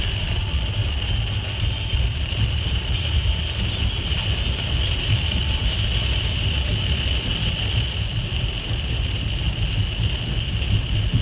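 Heavy thunderstorm rain pours steadily from inside a moving car, a dense constant hiss and roar with road rumble beneath, loud and unbroken throughout.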